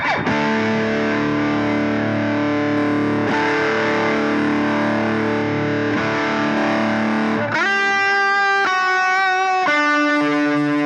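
An electric guitar played through a Pro Co Rat distortion into a Fender Bassman amp model on a Line 6 POD Go, loud sustained distorted chords ringing out, then a few separate struck chords near the end.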